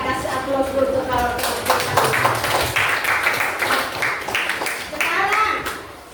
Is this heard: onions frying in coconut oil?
no